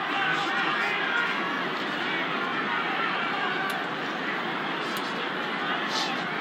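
A pretty good crowd fills Parramatta Stadium during a Parramatta versus Penrith rugby league match, a dense, steady roar of murmur and chatter, with a commentator talking over it.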